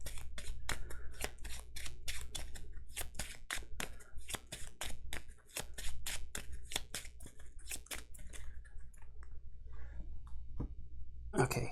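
Cards for the Earthborne Rangers board game are shuffled into the path deck in a long run of crisp, close snapping and clicking, with brief pauses between bursts and no talk.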